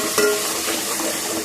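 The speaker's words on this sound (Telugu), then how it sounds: "ఈ అల్లం తెల్లగడ్డ పేస్ట్ కూడా బాగా వేగాలి" Ginger garlic paste sizzles and fries steadily in a hot pan for a chicken curry, a close, continuous crackle with a brief stir or scrape near the start and no talking.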